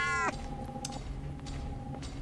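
A cat meows once in the horror survival video game Case 2 Animatronics Survival, a short falling cry followed by a long, faint electronic tone over low ambient hum.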